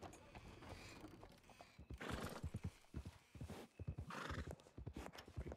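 Horse hooves clip-clop steadily and a horse neighs in a Western roleplay video game set near the Blackwater sheriff's office, with the rhythmic hoofbeats close and clear and a few faint voices in the background.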